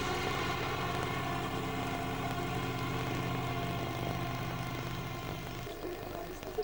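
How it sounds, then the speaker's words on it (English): A tractor train's engine runs steadily and fairly loud at an old clay-pit garden in Cornwall, a continuous droning hum with propeller-like tone that fades slightly near the end. "a tractor train operates all day"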